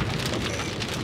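Steady rain falls during a multi-day spell of wet weather, a dense, even hiss of drops striking surfaces close by with no voices.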